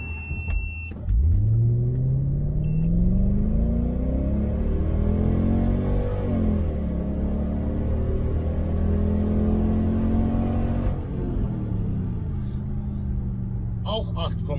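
A Mercedes-AMG running on petrol accelerates hard from a start, its engine note rising in pitch through several gears and dropping at each shift. It stays loud and close from inside the car, with brief beeps near the start and end.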